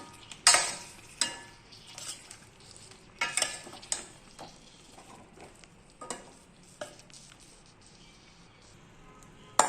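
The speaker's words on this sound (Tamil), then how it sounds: "இதை அப்படியே கிளறி கொடுத்துக்கலாம்" Brinjal curry with freshly pounded spice powder is stirred in a pan, sharp scraping and clanking strokes of the spoon coming in irregular bursts over a low sizzle.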